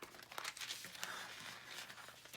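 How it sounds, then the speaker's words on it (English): A sheet of freezer paper is pulled through under slight pressure, giving a brief, quiet, close papery rustle and crinkle with a few small crackles. "and just pull your paper through."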